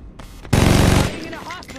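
Gunfire in a Saints Row 2 video game cutscene: a loud, dense burst of rapid shots lasting about half a second, standing out sharply from quieter background sound and voices before and after.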